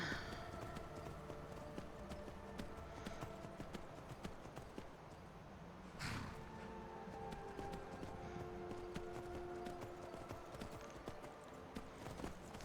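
Horse hooves clip-clop steadily in Skyrim VR, a continuous rhythmic patter of several horses at a brisk pace with game ambience and a faint voice underneath.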